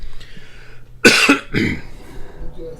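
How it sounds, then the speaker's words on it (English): A single close, sharp cough bursts out, followed by a shorter second cough, in an otherwise quiet room. "Hang on, I got a cough again."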